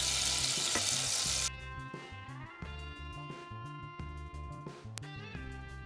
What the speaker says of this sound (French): Dans une casserole chaude, versez 25 g de beurre,